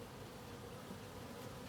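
Honeybees crawling over drawn wax comb on a hive give off a soft, steady, close buzzing hum that runs unbroken and alone throughout.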